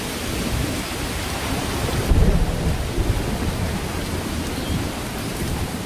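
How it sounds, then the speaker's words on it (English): Torrential monsoon rain pours steadily in a dense, constant roar, and a low rumble of thunder swells near the middle before easing back into the downpour. "But July arrives, and with it, torrential rain."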